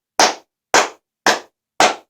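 A single person claps four times, slow and evenly spaced about half a second apart, each clap sharp, close and loud against near silence.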